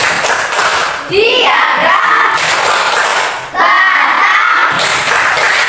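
A primary school class claps a rhythmic chant pattern together, loud and close, with children's voices chanting over the claps in two bursts.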